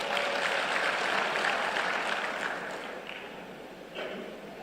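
A formal alumni association gathering at Hasanuddin University breaks into loud crowd applause for a newly installed quarantine agency head, strong at first and then thinning and fading toward the end.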